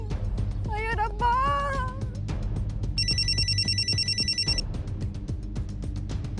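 A telephone rings once in a steady electronic trill lasting under two seconds, fairly loud against background music and other sounds.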